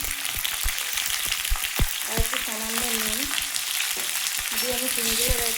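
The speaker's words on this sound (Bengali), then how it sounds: "ভেজে নেব দেখুন" Bean leaves with turmeric fry in a pan with a steady, bright sizzle broken by frequent small pops and clicks. Faint tonal sounds rise briefly in the middle and near the end.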